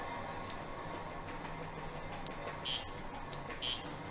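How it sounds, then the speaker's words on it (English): Short electronic beeps from a roulette computer sound a few times at irregular intervals over a steady hum of background noise. "I could place chips and system is beeping"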